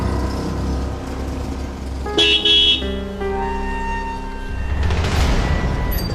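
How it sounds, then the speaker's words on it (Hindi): A car horn sounds in two short blasts over a rumbling engine and street noise, followed by a sustained tonal hum. "हॉर्न बजा।"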